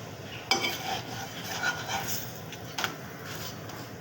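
Flower fritters frying in a pan of hot oil for breakfast, a steady soft sizzle and crackle with a few brief louder pops, heard close with no talking.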